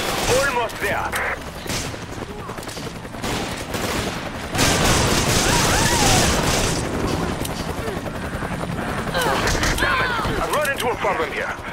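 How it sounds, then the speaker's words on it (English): Bursts of rapid gunfire in the video game Resident Evil 5 crackle alongside a mechanical whir, with voices talking over the shooting and the noise growing heavier partway through. "I can hear gunfire."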